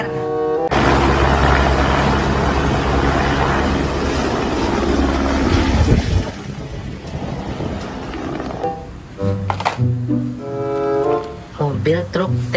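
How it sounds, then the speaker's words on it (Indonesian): A helicopter sound in a children's vehicle-sounds sequence: a steady, loud rotor drone runs for about six seconds, then cuts off and gives way to quieter mixed sounds and a voice. "helikopter."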